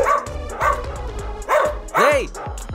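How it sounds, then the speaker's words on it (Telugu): A Dalmatian barks repeatedly nearby, loud yapping barks with whining, rising and falling yelps, while voices are heard in the background. "ఏంట్రా నాకు ఈ పొద్దు నుంచి కుక్కలు గోలా?"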